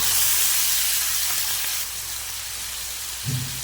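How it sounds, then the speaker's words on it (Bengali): Goat gizzard and liver dropped into hot, sizzling spice masala in a pan, a loud hissing sizzle that eases and settles, ending with a soft knock. "দেখুন মশলাটা আমার কষানো হয়ে গেছে এবার ঝিলে মেচাটা দিয়ে দেবো"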